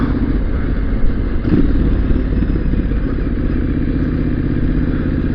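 A motorcycle being ridden, its engine droning steadily and close throughout under constant rumble and wind, with no talk.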